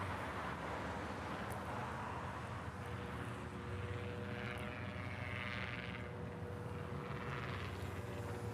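Propeller aircraft arriving at Honolulu airport, a steady droning engine roar with a faint whine, continuous and moderately distant under a wide airfield background, no voices.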